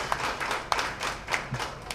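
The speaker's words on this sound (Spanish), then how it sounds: "Yo creo que con un aplauso le recibo entonces a nuestro" A small audience at a lecture claps to welcome the speaker, a few sparse, uneven handclaps rising and fading over a couple of seconds without much volume.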